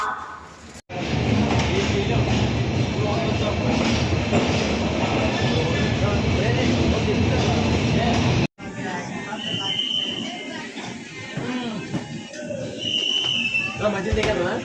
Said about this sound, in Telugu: ఇప్పుడైతే వైజాగ్ స్టేషన్లో ఉన్నాం